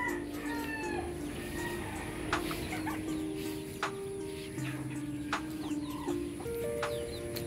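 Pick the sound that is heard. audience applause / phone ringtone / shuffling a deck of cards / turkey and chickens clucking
turkey and chickens clucking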